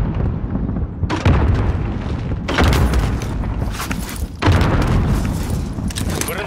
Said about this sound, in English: Whoa, frag grenade.